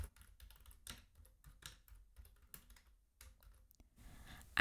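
Close typing on a computer keyboard while entering a Python message, quick irregular bursts of soft key clicks with short pauses, fairly quiet.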